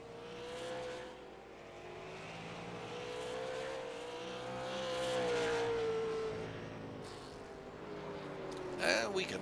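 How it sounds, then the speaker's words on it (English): Tanner Marr's race car laps the Crooked Line Racing track, engine note rising and falling as it accelerates and lifts, fairly faint and distant, with a commentator talking throughout. "Tanner Marr still the quickest car on the track right now."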